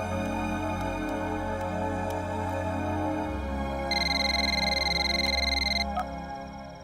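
A telephone rings indoors in a Hindi film scene, a steady electronic ring that grows louder partway through and then cuts off, with a low background hum and no talk.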